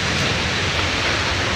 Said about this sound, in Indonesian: Sini hujan keadaannya teman-teman.